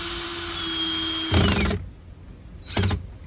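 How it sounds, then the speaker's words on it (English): A handheld power drill bores a hole to mount an L bracket for a car bed platform, with a steady whirring run, a rough grinding bite into the material, then a short second burst, close and alone. "I'm gonna start with my first hole on the side."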